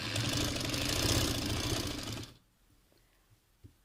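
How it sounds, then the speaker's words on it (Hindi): An electric sewing machine stitches the edges of jamawar trouser fabric into a butterfly-style hem design, running in a fast, steady whir up close before stopping abruptly, leaving near silence with a few small handling knocks. "अब दूसरी साइड से भी बटरफ्लाइज के किनारों को एक दूसरे के साथ जोड़ते हुए अच्छे से सिलाई लगा लेंगे"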